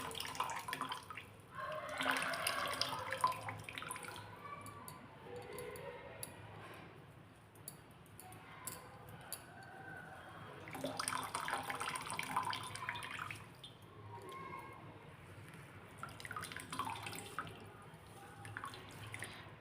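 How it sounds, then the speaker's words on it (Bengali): Coconut milk drips and trickles while grated coconut is squeezed by hand to make homemade coconut oil, in soft wet bursts that swell and fade across the stretch with no talking. "এরকম চিপে আমি নারকেলের দুধটা বের করে নিয়ে নিচ্ছি"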